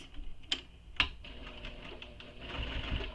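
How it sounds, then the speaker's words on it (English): A sewing machine stitches backwards on a bowler bag in a quiet, close, rapid mechanical whir, with two sharp clicks early on before the motor hums on steadily. "I always go backwards a few stitches here, just so that my presser foot clears"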